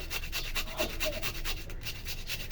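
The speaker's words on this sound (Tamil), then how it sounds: "இப்போ இந்த மாதிரி பிளேட் வச்சு ஒரு கிரேட்டரில் நல்லா சீவி எடுத்துக்கலாம்" A potato is rubbed back and forth over a kitchen grater, making quick repeated scraping strokes. The rasp is steady, close and alone, with no talk.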